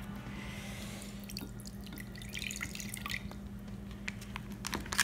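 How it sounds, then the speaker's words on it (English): Packing liquid draining from a tofu package over a sink, a faint trickle and scattered drips that run steadily and close by, with no talking. "we're gonna drain off this liquid"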